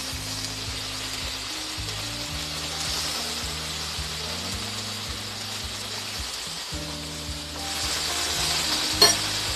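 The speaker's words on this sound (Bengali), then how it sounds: "কেটে রাখা পুঁই শাক আমি দিয়ে দেব।" Malabar spinach stirred into a frying pan with pumpkin and fish head, giving a steady soft sizzle and scraping under a low constant hum, with no voice.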